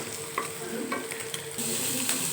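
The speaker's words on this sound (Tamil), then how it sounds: "பன்னீரை வறுத்து எடுத்துகிட்டு" Homemade paneer cubes fry in a pan with a steady close sizzle, broken by a few sharp scraping stirs and a louder hiss toward the end; no one speaks.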